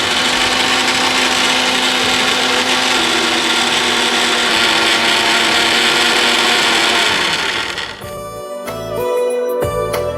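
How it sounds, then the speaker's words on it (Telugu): A kitchen mixer grinder whirs loud and steady while blending a banana and soya milk shake, then cuts out near the end and leaves a brief clattering tail. "మిక్సీ పట్టేసుకుందాం."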